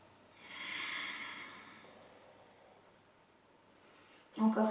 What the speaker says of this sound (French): Encore une respiration complète.